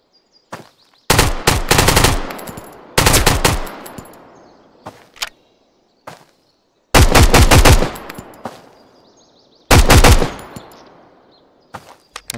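Bursts of rapid gunfire from snipers and other weapons in the survival shooter game Road to Vostok, several loud clusters of sharp, cracking shots separated by short silences and a few isolated single shots.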